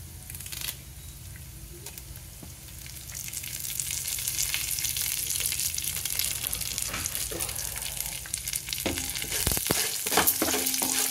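Dried red chilies, mustard seeds and curry leaves frying in hot oil, a soft continuous sizzle that grows louder partway through, with occasional clicks and scrapes from stirring and no speech.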